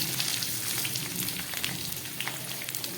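Potatoes frying with salt in hot oil for a mutton curry, a steady dense sizzle with fine crackling throughout and no voices.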